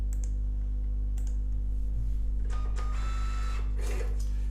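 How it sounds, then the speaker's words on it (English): Label printer printing, a brief whirring and clicking feed heard close over a steady low electrical hum. "I'm going to print that"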